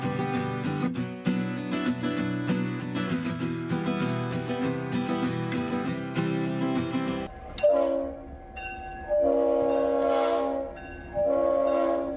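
Music plays for several seconds, then a sustained Tennessee Valley Railroad train horn sounds with train rumble and rail noise, the horn rising and falling in loud repeated bursts.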